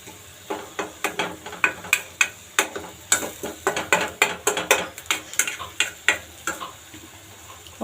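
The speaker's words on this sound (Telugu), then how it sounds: "చూడండి, ఇవన్నీ వేసిన తర్వాత ఒక 5 నిమిషాలు కలుపుకోండి." A mushroom fry is stirred in a pan, a spoon scraping in quick regular strokes about twice a second over a soft sizzle, close and clear with no talk.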